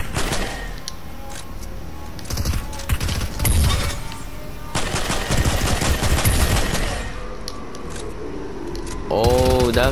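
Rapid bursts of video game gunfire crackle in repeated volleys, loud and close, with a player talking over the shooting.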